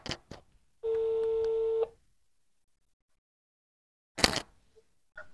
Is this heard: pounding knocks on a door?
no